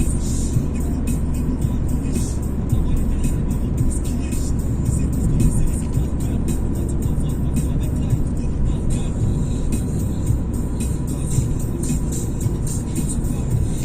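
A car travels a winding road at night, its engine a steady, fairly loud drone with road and tyre rumble heard from inside the cabin, speeding up slightly as it goes.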